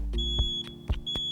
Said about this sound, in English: When testing your smoke detector, you want to make sure that you push the test button.